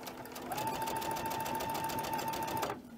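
A sewing machine stitches quilt blocks in a fast, even run of needle clatter with a steady motor whine, close and alone, cutting off just before the end.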